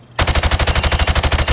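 Rapid automatic gunfire in Call of Duty, shooting at targets through a sheet of plywood: a loud, even burst of about fifteen quick shots that starts abruptly and keeps going without a pause.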